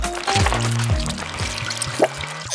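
Nutella mixture poured into two plastic cups in a cooking video game, a short liquid glug and trickle layered over bright tonal game music and effect chimes.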